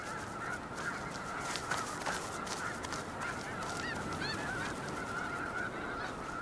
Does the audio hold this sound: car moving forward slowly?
no